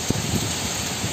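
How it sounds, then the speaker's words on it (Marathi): Steady rain and gusting wind during a cyclonic storm in the Konkan region, a dense, loud wash of hiss and rushing noise close to the microphone with no let-up and no voices. "वारा पाऊस सर्व."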